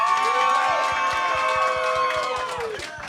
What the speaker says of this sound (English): I want you to only cheer for who you think is the King of the Kill